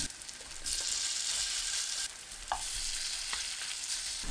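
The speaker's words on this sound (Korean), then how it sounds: "약불로 낮추고 반죽을 둥글 납작하게 올립니다." Rounds of sweet pumpkin batter frying flat in an oiled pan over low heat, a continuous bright sizzle with a few small pops, close and quiet.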